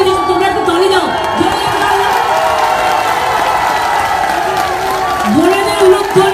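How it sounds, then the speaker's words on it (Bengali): At a Mamata Banerjee election rally in Barrackpore, women ululate and men clap, a dense continuous crowd roar with warbling trills rising and falling throughout. "এই ভাইরা মায়েরা উলুধ্বনি দিচ্ছে, তোমরা একটু তালি দাও।"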